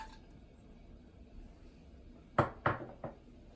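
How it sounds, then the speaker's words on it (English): Salt, sugar and peppercorns go into a pot for pickling onions, heard as three quick, close clinks and clatters near the end after a quiet stretch. "I'm going to go in with my salt, my sugar, and my peppercorns."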